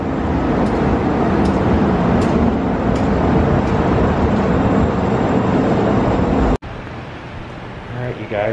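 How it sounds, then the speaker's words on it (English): Loud, continuous rail rumble and clatter of a train pulling away in Portland, Oregon fills most of the clip, then cuts to a quieter background with distant noise. "as the train pulls away just like this"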